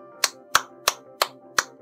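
One person clapping hands five times in a slow, evenly spaced rhythm, each clap sharp and close with nothing else around it.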